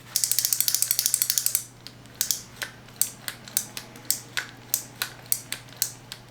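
A Johnson Century spincast fishing reel assembled from spare parts cranks with a fast, close ratcheting clatter, then switches to reverse with a slower, uneven series of sharp clicks that skip irregularly.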